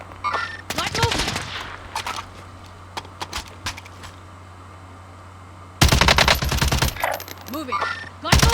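Gunfire in Call of Duty Warzone, loud close automatic bursts in two main clusters separated by scattered single shots and quieter stretches, with a voice speaking between them.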